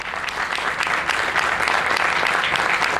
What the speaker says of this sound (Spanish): quiero que le demos una gran bienvenida con un aplauso, por favor